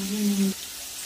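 Potatoes frying lightly in a pan give a soft steady sizzle, briefly overlaid by a low humming tone at the start.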